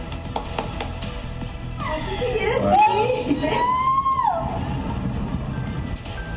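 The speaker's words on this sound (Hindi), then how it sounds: "लोगों की चीख पुकार भी सुन सकते हैं।" Frantic, high-pitched screams and wailing voices of people in panic during a military attack rise over a dense, noisy background of crowd commotion, loud and close, lasting several seconds.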